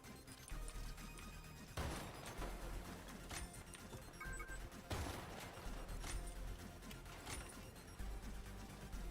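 Loud, dense gunfire and crashing impacts in a zombies video game with a shotgun, several sharp blasts around two, three and five seconds amid a continuous noisy battle din.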